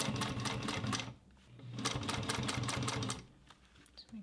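Sewing machine stitching a bucket bag through bulky seams on a Juki machine, running in two steady bursts with rapid mechanical clatter, pausing briefly between runs.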